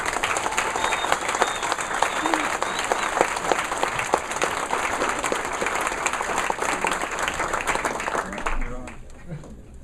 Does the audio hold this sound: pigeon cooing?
no